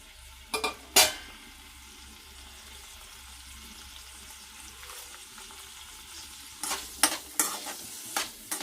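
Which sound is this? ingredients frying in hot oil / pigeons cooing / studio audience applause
ingredients frying in hot oil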